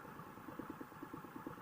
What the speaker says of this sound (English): Let's listen to that exhaust a little bit as it just idles here.